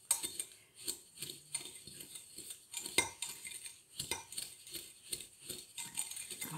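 A spoon clinks and scrapes rhythmically against a bowl, stirring homemade dishwasher detergent powders steadily at close range with no voices.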